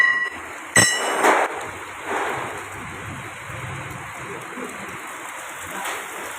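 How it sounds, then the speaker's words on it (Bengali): Steady rain hisses throughout, with a couple of sharp knocks near the start and a faint voice in the background. "বৃষ্টি তো পড়া শুরু হয়ে গেছে"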